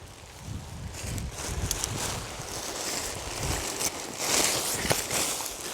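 Wind blows outdoors while a Big Agnes Tiger Wall UL 2 tent is pitched, a continuous low rumbling buffet against the microphone with faint rustles and small clicks on top.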